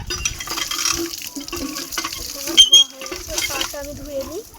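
Water pouring and splashing while hog plums are washed, a running trickle with intermittent splashes under a woman's chatter close by.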